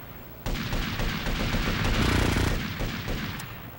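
Gunfire in the Grand Theft Auto: Vice City Stories video game on PS2, a dense, continuous burst of rapid shots and booming impacts, loud and steady throughout with no talking.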